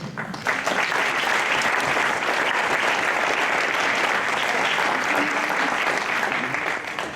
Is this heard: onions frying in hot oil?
no